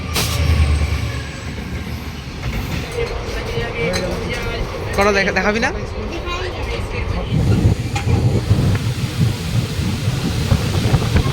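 Haldibari Tri-Weekly Intercity Express rumbling along, heard from inside a second seating coach, with steady low rail noise and occasional clinks throughout while people talk nearby.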